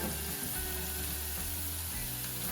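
Cauliflower pieces frying in hot oil give off a steady, even sizzle that stays dense and constant throughout, with no talking over it.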